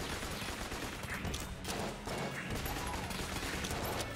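A burst rifle fires rapid, dense gunfire in the modded video game Enter the Gungeon, volleys following one another almost without gaps across the whole stretch, loud and continuous.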